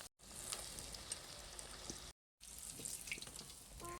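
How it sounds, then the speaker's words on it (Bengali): Fish pakora pieces frying in oil make a fairly quiet, bubbling sizzle that runs steadily, cuts out briefly to silence, then resumes, with a few faint crackles and no talking. "এই মাছগুলো ভাজবো।"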